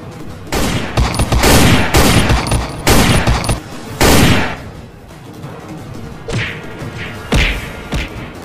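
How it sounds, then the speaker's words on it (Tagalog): Loud gunfire in a comedy action skit, a rapid barrage of heavy booming bangs and thuds in dense bursts for several seconds, then a few spaced, softer blasts, close and dominant with no talking. "Bakit mo ako binaril?"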